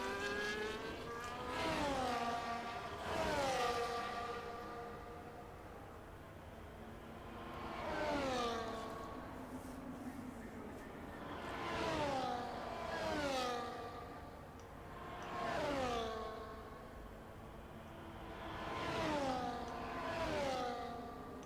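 Race cars on Monza in a racing game pass by one after another, each rising then falling in pitch as it sweeps past, moderately loud with steady gaps between passes.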